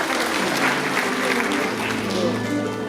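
An audience at a Pocheon city citizens' forum on a coal power plant applauds in a steady, dense wash of clapping after guests are introduced, with a voice talking over it.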